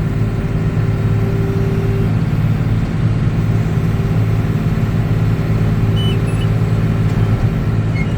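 A hay baler runs steadily as it forms another bale, a loud continuous mechanical drone with a tractor-like engine hum and a constant rattling, unbroken throughout.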